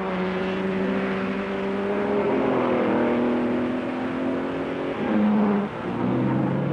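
A Maserati Tipo 61 sports racing car at full throttle gives a loud, steady engine drone whose pitch glides up and down through gear changes, with a short dip and then recovery near the end.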